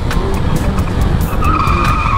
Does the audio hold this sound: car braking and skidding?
yes